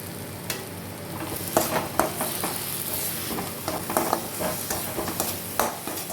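Tomato and spices frying in a pan for katla fish kalia give a continuous close sizzle, with occasional sharp clinks and stirring knocks of a utensil against the pan.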